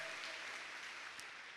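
Steady applause from a church congregation, dense and continuous clapping filling the room at moderate loudness throughout.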